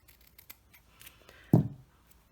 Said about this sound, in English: what I thought I would do for this was just cut this piece in half